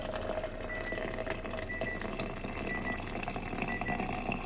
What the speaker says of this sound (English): That's the timer going off after 2:30.